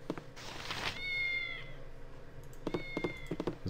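A cat in a video game meows twice, first a short call and later another with soft tapping beneath it, set against a faint background hum.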